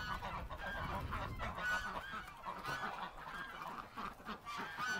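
Domestic geese at a farm pen honk repeatedly in irregular bursts, moderately distant, with other fowl noise mixed in.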